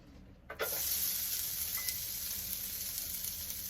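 Onions hit a hot pan on the stove for turkey enchiladas, bursting into a sudden loud sizzle that settles into a steady, close hiss with no talk.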